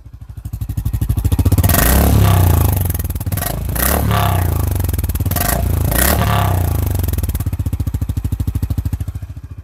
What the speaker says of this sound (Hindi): थोड़ा मैं इसको रैप करके दिखाता हूँ एक बार।